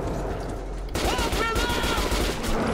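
Gunfire in the video game Metro Last Light Redux: a burst of rapid automatic shots rings out close and loud, a dense rattling fusillade over the game's background noise.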